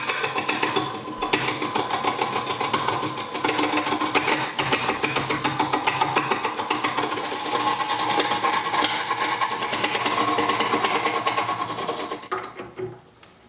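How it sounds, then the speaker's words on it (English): A wood lathe spins a blank of bath pouf cast in resin under a tool cut, giving a steady, loud whirring drone with a rasping, scraping texture that runs continuously before winding down at the end. "Today I'm going to be attacking this with my easy wood tool."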